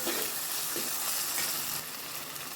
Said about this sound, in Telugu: అల్లం వెల్లుల్లి పేస్ట్ పచ్చివాసన పోయేంత వరకు వేయించేసుకున్నాము